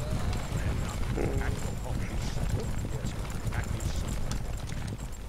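Horses gallop loudly in WarCraft: Armies of Azeroth, a dense continuous drumming of hooves close up, with a faint whinny mixed in and a voice talking over it.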